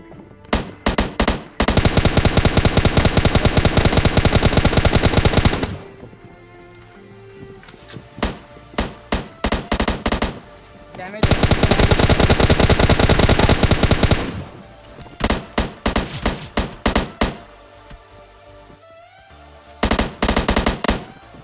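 Rapid automatic gunfire from a squad-rush battle royale shooter game, loud bursts lasting several seconds separated by quieter gaps with scattered single shots and clunks.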